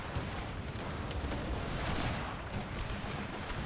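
Cannon firing round shot in Pike and Shot, a broad rumbling roar of massed discharges that stays loud and dense throughout, with no distinct single report standing out.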